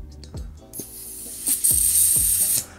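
Green gas sprays out of the noisy fill valve of a Tokyo Marui Glock 19 Gen.3 gas blowback magazine as it is filled, a loud, close, sustained hiss lasting about a second amid clicking and knocking handling sounds.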